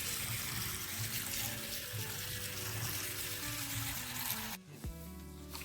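Coriander is washed in running tap water, a steady close splash and hiss of the stream that cuts off near the end, leaving a faint trickle and a light knock.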